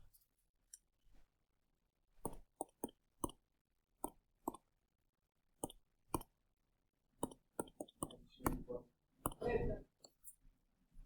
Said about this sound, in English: I'm going to pull out my handy dandy calculator